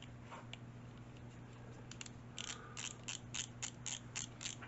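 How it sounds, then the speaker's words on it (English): A ratcheting screwdriver drives a small screw into a Space Battleship Yamato model kit, giving a quiet, close series of quick evenly spaced ratchet clicks in short bursts over a steady low hum. "This is one thing about having a ratcheting screwdriver."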